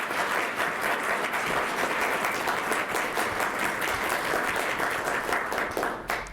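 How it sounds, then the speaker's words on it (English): Sustained applause from an audience honoring the judges at a high school mock trial state championship, a dense, steady wash of many hands clapping at even loudness that tapers slightly at the end. "So a round of applause for our judges."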